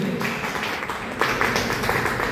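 An audience claps to welcome a speaker onto a stage. The short burst is made of fairly close, scattered hand claps that pick up slightly toward the end, with no talking over them.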